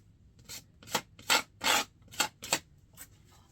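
Paint is scraped across a mixed media canvas in about seven separate rasping strokes, close and fairly loud, with quiet gaps between them.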